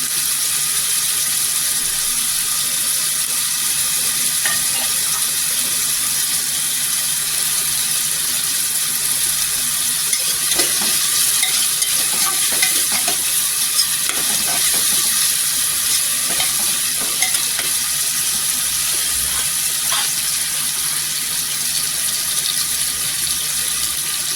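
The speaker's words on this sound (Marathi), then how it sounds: "टोमॅटो पण इथे तेलावर छान असा फ्राय करायचा" Tomatoes frying in oil in a pan, with a steady loud sizzle that runs the whole time and occasional stirring scrapes on top, close up.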